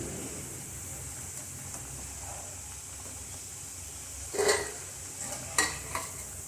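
Potatoes fry in hot oil with a steady soft sizzle and hiss, then a few sharp metal clinks as a utensil stirs them and lifts them out.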